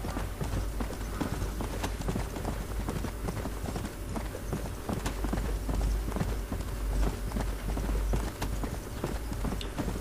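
Horse hooves galloping in the video game Red Dead Redemption on PS3, a rapid steady clip-clop rhythm running continuously at moderate level.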